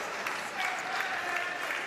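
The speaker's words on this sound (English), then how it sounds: "Coach is applauding, and he's right to do so." Applause at a wheelchair para table tennis match in a large arena, a steady spread-out patter of clapping at moderate level with faint crowd murmur beneath.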